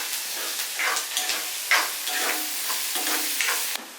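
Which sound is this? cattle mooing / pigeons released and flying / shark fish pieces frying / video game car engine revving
shark fish pieces frying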